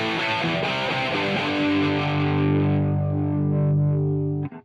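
An electric guitar runs through the IK X-Vibe pedal on its chorus 80 setting, a big stereo chorus. Sustained chords ring with a wide, shimmering wash, then cut off abruptly at the end.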